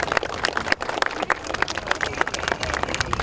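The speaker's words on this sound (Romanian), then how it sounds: "Aplauze!" A crowd applauds loudly at a church ceremony inaugurating a bridge in Dofteana, with dense, steady clapping filling the whole stretch without a break.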